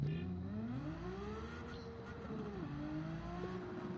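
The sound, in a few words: car roll racing in video game Gran Turismo 7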